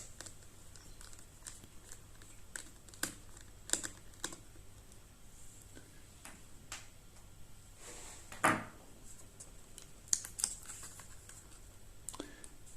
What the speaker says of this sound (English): you need to unscrew these first, put the screws in a safe place